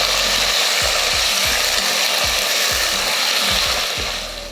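A loud, steady motorized whir of a mixer grinder running continuously while grinding ginger, garlic and other ingredients, with rhythmic thumping underneath.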